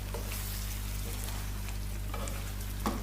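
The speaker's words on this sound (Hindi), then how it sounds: "अच्छी तरह से मिक्स कर दें" Cauliflower and potato curry being stirred in a pan, a steady close sizzle of frying with scattered soft scraping clicks of the spoon, a sharper knock near the end, no voices.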